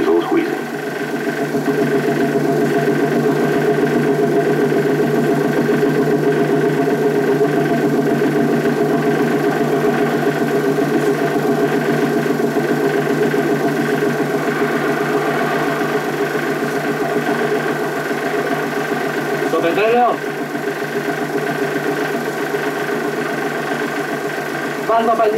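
An old diesel engine aboard a 1960s fishing boat in Greece runs with a steady, unbroken mechanical drone, loud and close, holding an even chugging throb throughout.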